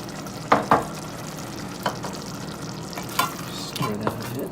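Store-bought sauce going into a hot pan, giving a soft continuous sizzle with a few louder clatters and stirring knocks near the start and scattered through.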